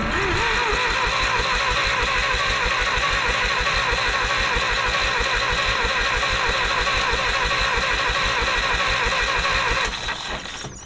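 A Minneapolis Moline UTU tractor bought at auction cranks over steadily with a rapid, even rhythmic chugging for about ten seconds. It stays loud and close, then cuts off abruptly, with no speech over it.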